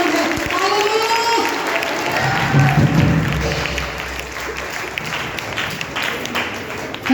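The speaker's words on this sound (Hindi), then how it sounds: "जोरदार ताली इस वचन के लिए" Worship-service congregation in a church breaks into applause, a broad wash of clapping that swells midway and then thins out, with reverberant hall tone and faint voices underneath.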